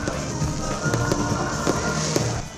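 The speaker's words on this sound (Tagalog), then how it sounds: "Natapos ang grand opening, pinaagi sa isa ka grande na fireworks display." Fireworks display at the grand opening of the Mascara Festival 2025 in Western Visayas, with repeated sharp bangs and crackles popping over a continuous loud, dense roar of bursts.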